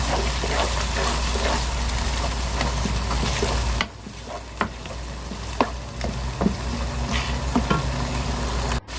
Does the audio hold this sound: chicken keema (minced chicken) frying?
yes